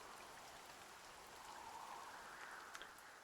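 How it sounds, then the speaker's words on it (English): Steady soft hiss of rain falling in the Dragon Quest I HD-2D Remake game, a continuous fairly quiet wash with no speech over it. "Lo, the rain doth fall, and soon enough the sun too shall fade"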